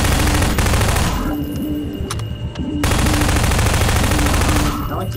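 Gunfire from a weapon in the video game Half-Life 2, played on hard difficulty: loud, dense sustained firing fills most of the span, with a short lull in the middle before the shooting resumes.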